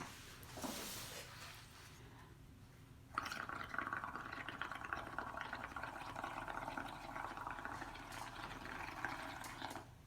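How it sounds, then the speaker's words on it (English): Bubbles blown into liquid paint gurgle and bubble steadily from a few seconds in, a continuous close, moderately loud wet churning that follows a brief quieter stretch. "And then we're gonna start blowing bubbles."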